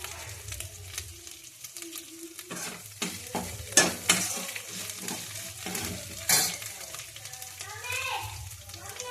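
Cumin seeds sizzle in a hot kadhai, a steady frying hiss with clinks of a spoon and pan, fairly close, while a voice talks over it.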